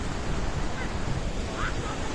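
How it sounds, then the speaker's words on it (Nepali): Swollen river during a Nepal flash flood, rushing with a heavy, continuous low rumble and hiss of turbulent water, loud and near, buffeted by wind on the microphone. "खोला हेर्नु गाइस खोला"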